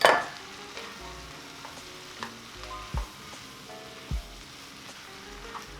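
Noodles for Thai drunken noodles stir-fried in a pan with vegetables, a soft steady sizzle broken by a few distinct knocks and scrapes of the utensil, fairly quiet with no talking.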